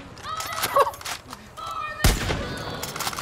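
Gunfire from a gun in a video game, several sharp shots and a heavy blast amid other game sounds and effects, with talk around them.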